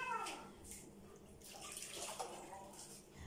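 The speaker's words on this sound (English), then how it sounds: "So let me get my hands washed." Hands washed under a running tap, a soft steady stream of water splashing into a sink, fairly faint and close, with no talking.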